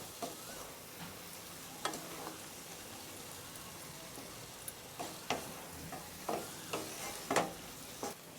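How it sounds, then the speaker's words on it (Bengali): Fried pointed gourd being stirred in a pan with oil, giving a soft steady sizzle with scattered scraping clicks and taps of the spatula, moderately quiet with no talking. "এবার আমি সুন্দর করে নেড়ে নিচ্ছি।"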